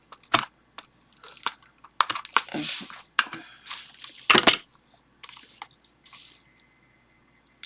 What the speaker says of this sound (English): I'm just putting glue around the edge